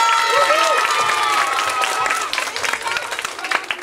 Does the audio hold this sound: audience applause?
yes